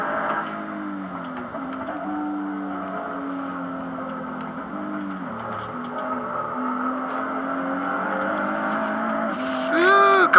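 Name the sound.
racing car engines in a sim racing video game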